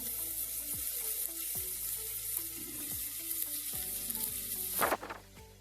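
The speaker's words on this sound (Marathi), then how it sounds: "आता यामध्ये घालायचा आहे चिरून ठेवलेला कोबी." Chopped cabbage dropped into hot oil tempered with asafoetida and turmeric, a bright close sizzle with scraping stirs and clinks, swelling into a louder hiss burst near the end.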